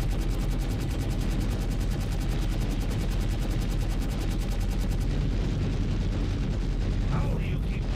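Spaceship weapons firing in a Star Citizen space battle, a dense, continuous rapid stream of gunfire-like bursts that stays loud throughout.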